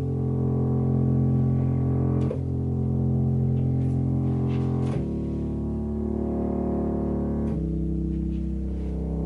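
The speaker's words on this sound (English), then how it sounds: "we've got a simple drum track, and we're gonna add a simple bass, and it's gonna sound kind of like this" A simple song demo plays, a sustained synth melody with bass and a drum track, changing chord roughly every two to three seconds at a steady moderate level, no voices.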